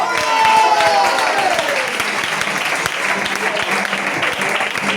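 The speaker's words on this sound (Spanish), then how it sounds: "Un aplauso para" A church youth congregation breaks into applause during a service, dense clapping rising behind a voice that trails off as the crowd keeps cheering.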